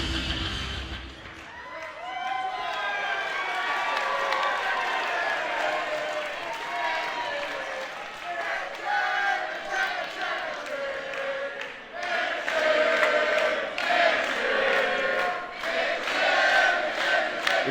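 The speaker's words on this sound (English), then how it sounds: "The crowd here in Thornbury letting Mitchie know that they believe he can do it." A wrestling crowd in Thornbury cheering and shouting for a wrestler during an MCW match, a loud sustained roar of voices that swells toward the end, with a commentator talking over it.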